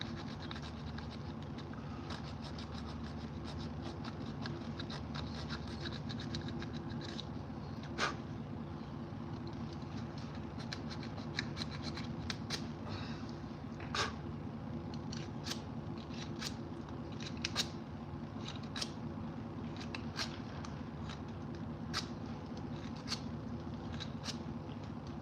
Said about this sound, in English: Sit here and scrape chunks of this wood out.